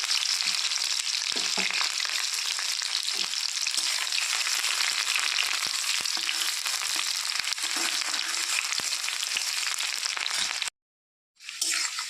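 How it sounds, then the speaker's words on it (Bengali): Chopped small onion frying in a pan after black cumin seeds, a steady close hiss of sizzling oil with occasional clicks and stirring scrapes, cutting out briefly near the end before resuming. "পেঁয়াজটা লাল লাল হয়ে গেছে ভাজা হয়ে গেছে"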